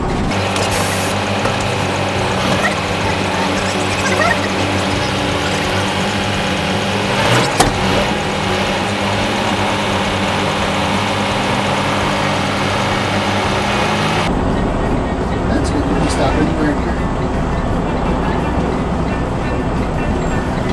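A car engine runs at a low, steady idle-like drone while the vehicle creeps slowly straight ahead during backing practice, loud and continuous throughout, with a faint change in tone partway through.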